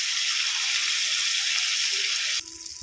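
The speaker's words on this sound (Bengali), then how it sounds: "এক পিঠ হয়ে গেছে, আর এক পিঠ উল্টে ভেজে নেব" Prawns fry in oil with a loud, dense, steady sizzle that cuts off abruptly near the end and leaves quieter kitchen sounds.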